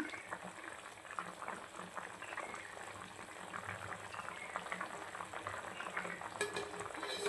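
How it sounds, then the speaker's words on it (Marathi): Country (gavran) chicken curry in kala masala at a rolling boil in a pot, bubbling and popping steadily at close range with a soft, continuous gurgle and no speech. "आता आपल्या चिकनला छानपैकी उकळी फुटलेली आहे"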